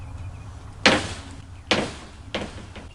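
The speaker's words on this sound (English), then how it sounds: "A screen door to a back porch," A wooden screen door on the back porch of an old farmhouse bangs shut three times, each slam a sharp, fairly close crack that rings briefly over a quiet background.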